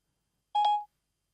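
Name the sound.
phone dialing tones as Siri calls mum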